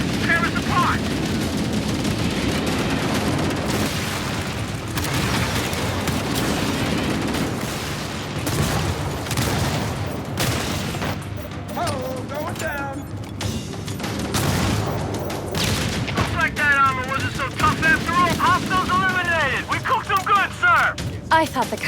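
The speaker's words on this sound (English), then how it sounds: "Those mortar tanks will tear us apart!" Covenant mortar tank bombardment in the video game Halo, with dense booming explosions and rattling gunfire running continuously beneath shouted voices and radio-style talk.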